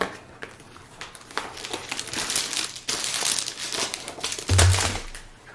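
Plastic packaging from a diamond painting kit crinkles and rustles loudly and continuously up close as it is handled and opened.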